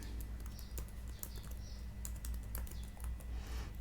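Code being typed on a computer keyboard, quiet and close, a steady patter of light key clicks throughout.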